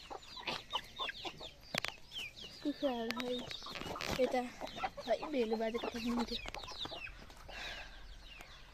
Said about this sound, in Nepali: यता कुखुराहरू छ।